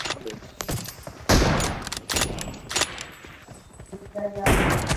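PUBG Mobile gunfire during a Frost Festival match: several sharp bursts and single shots, loud and close, scattered with pauses between them.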